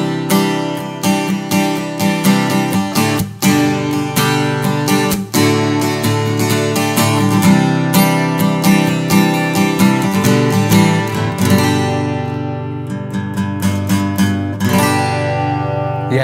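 A Bromo BAA2CE acoustic guitar played in bright, full strummed chords with a few sharp accented strokes, loud and close, ringing out alone without talk.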